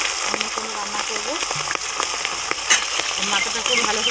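Rohu fish head frying in hot oil in a pan, a steady close crackling sizzle that runs throughout with a few brief spattering pops and faint utensil sounds, no voices.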